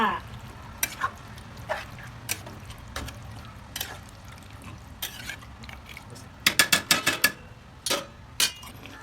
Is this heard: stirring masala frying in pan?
yes